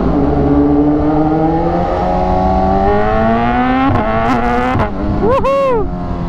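BMW S1000R motorcycle engine held at the rev limiter, a loud, close, sustained high-pitched drone with stuttering cutouts that ends in sharp blips and a falling then rising rev.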